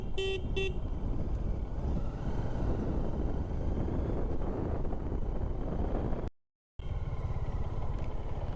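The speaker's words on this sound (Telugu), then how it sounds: "అది కూడా ఒక లారీ అంతే." A lorry passes on a quiet forest road on a long motorcycle ride to Maredumilli, a steady rumbling drone with wind buffeting across the whole stretch, a short horn-like tone near the start and a brief dropout near the end.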